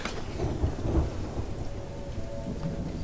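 Steady rain pours in a stormy Sea of Thieves game scene while a low, rolling thunder rumble swells near the start, with no voices over the wash of rainfall.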